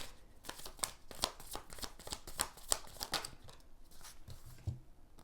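Tarot cards are shuffled close by in quiet surroundings, a rapid series of crisp riffling snaps and flutters in quick rhythmic bursts, ending with a few softer taps.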